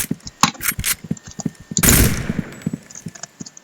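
A bomb thrown in the Point Blank shooter game, amid rapid bursts of close, loud gunfire with a broad, rushing blast in the middle, and no voices.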